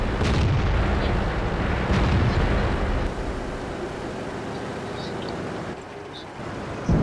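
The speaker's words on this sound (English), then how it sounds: "KV-1S is open, firing, hit him for 292 damage" Tank cannon fire in the World of Tanks video game, a heavy booming shot at the start followed by a rumbling, echoing battle din with more dull impacts around two and three seconds, loud and without talk.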